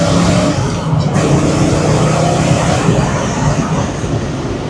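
A lowered Foxbody Mustang, sitting about 22 inches off the ground, drives along with a steady, loud, broadband engine and road roar that holds throughout without pause.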